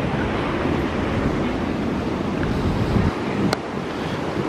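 Ocean surf rolling onto Hamoa Beach on Maui's Hana coast, a steady broad wash of breaking waves with wind buffeting the microphone, continuous and fairly loud with no voices.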